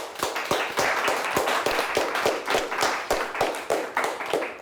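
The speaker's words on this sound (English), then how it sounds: "Nice round of applause for both of our teams" A studio audience claps for two high school quiz teams, Cadillac and Mt. Pleasant, after a close game, with steady rhythmic hand claps close by and little talk.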